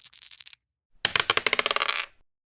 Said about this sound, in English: So Lisa, do you want to roll that dice